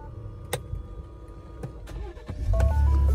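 A 2019 Lincoln Navigator with a fault cranks after a few faint clicks, its starter and engine rising into a loud, low rumble near the end.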